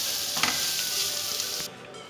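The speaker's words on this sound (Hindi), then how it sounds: "यहाँ पे चिकन को हमने बहुत अच्छी तरह भून ली है" Chicken for a roti shawarma frying in a pan, a steady close sizzle with a few sharper crackles that cut off abruptly near the end.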